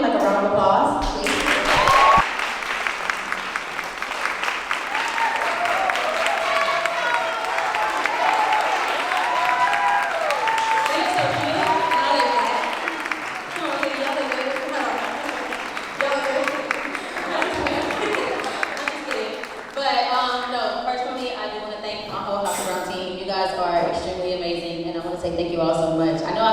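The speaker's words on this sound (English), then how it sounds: "So if we can give them like a round of applause," Audience applause breaks out at a Women in Suits event as the House of Brown team is welcomed, clapping sustained under music with vocals and talk, with a brief cheer near the start.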